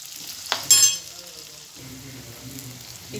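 A chickpea curry masala sautés in a pan with a faint, steady sizzle, with a brief louder clatter of stirring early on followed by quieter frying and no voices.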